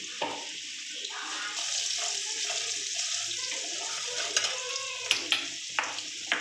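Chopped onion and chili powder frying in a pan for Bengali-style katla fish kalia, a continuous hissing sizzle with soft stirring scrapes and a few sharp utensil knocks near the end.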